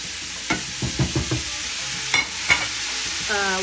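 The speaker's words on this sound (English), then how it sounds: "The onions, celery, bell pepper, I'm gonna add the garlic too. It's gonna cook for about 15 minutes." Onions, celery, bell pepper and garlic fry in a pot for a minestrone base, with a soft, even sizzle under a few short scraping stirs of a spoon and no talking.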